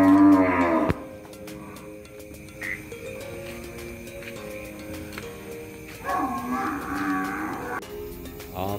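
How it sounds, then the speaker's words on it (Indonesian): Cattle being loaded onto a truck for transport moo loudly and repeatedly, with long low calls near and far overlapping against a noisy outdoor background. "inilah sapi-sapi kita yang akan dibawa ke Medan"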